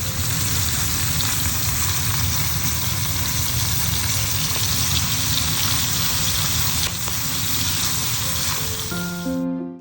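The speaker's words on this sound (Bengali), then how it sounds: "মাছ ভাজা বসিয়ে দিয়েছি" Fish fries in plenty of hot oil in a wok, a dense, continuous sizzle holding steady and loud for several seconds before cutting off abruptly.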